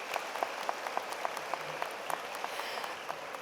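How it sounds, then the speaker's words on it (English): An audience at a Duke TIP 2015 morning ceremony claps for the parents. The applause is steady, moderate and fairly distant, with distinct individual claps over a soft crowd wash. "Do you all want to give a round of applause for your parents?"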